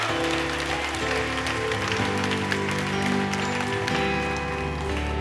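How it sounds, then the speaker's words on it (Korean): A church congregation at a prayer meeting claps steadily in thanks to God, a dense, continuous wash of applause from many hands with a faint musical backing underneath. "우리 그 주님께 감사의 박수 올려드리겠습니다"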